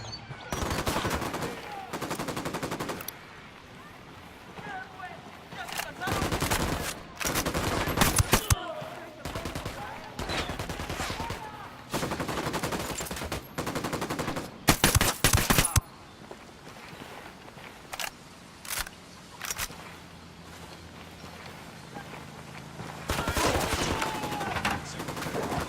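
Bursts of automatic gunfire in Tom Clancy's Ghost Recon Wildlands, loud rattling volleys broken by short pauses, with single shots and quieter stretches of scuffling in between.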